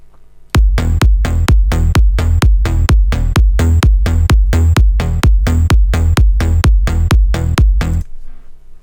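Melbourne Bounce bass with low, mid and high layers stacked an octave apart pulses in a steady run of about sixteen loud, evenly spaced off-beat hits, each sharp and bright, then stops abruptly leaving a faint tail.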